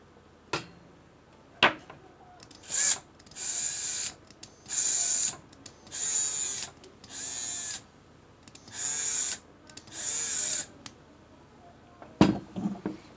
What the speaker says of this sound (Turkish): Motor çalışıyor